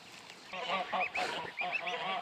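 Geese on a homestead duck and goose pond, a run of repeated nasal honks in quick irregular bursts, close and loud, with no talking.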